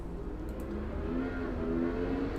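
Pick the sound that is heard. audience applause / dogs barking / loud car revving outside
loud car revving outside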